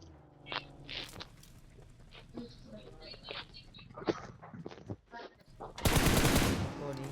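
Gunfire in the mobile battle royale game BGMI: scattered shots and short bursts early on, then a loud sustained burst of automatic fire near the end, mixed with other game sounds and a voice.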